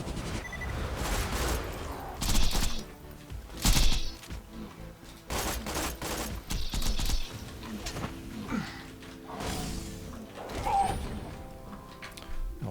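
A grenade goes off in the Borderlands 3 shooter, amid bursts of gunfire and sharp explosive blasts arriving in irregular clusters, loud and punchy, with quieter game ambience and mechanical clatter between them.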